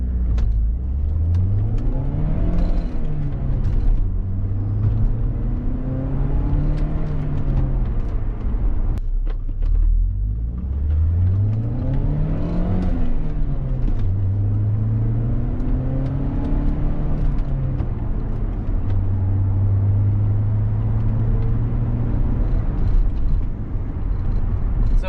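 A 2004 Saab 9-3 convertible turbo accelerates hard, its engine note climbing through repeated rising sweeps as the turbo comes on, with gear changes breaking the pulls; steady, close and continuous with no talk.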